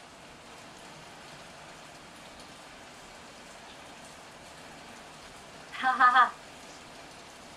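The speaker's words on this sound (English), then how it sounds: "it's maybe more so heavy rain because it's constant" Constant heavy rain in the thriller game Heavy Rain, a steady soft hiss of falling water throughout, with a short burst of laughter near the end.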